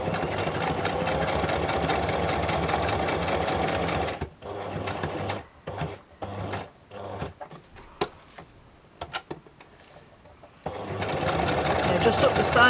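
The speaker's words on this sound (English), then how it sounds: "start sewing away from the fold" A sewing machine stitches a seam in quick, steady bursts, stopping and starting. Loud whirring runs are separated by quiet pauses, and a voice speaks at times.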